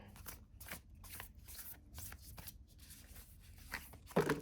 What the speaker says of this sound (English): This one isn't really easy to shuffle.